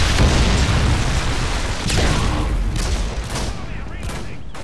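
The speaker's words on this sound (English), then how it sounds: "Friendly Predator missile inbound." A Predator missile explodes in Call of Duty: Modern Warfare 2 during a Domination match on Wasteland, a loud sustained rumbling blast layered with gunfire cracks and booms that slowly fades over several seconds.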